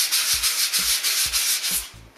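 Sandpaper rubs lightly over dried paintable non-woven wallpaper or glass-fibre wall covering, five even back-and-forth strokes in a steady rhythm, close and clear with no talking.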